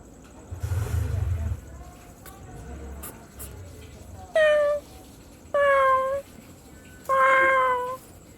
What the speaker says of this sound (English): we are talking about cats